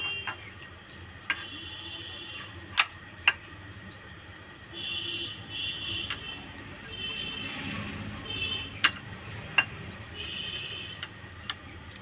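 Gas stove igniter clicking to light a burner in a home kitchen before frying, sharp isolated ticks at irregular intervals over a low background hum, with faint clatter between.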